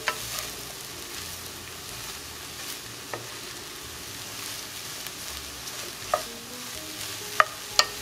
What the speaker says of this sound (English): Start tossing your soy crumbles so that it can coat completely with that oil we have at the bottom.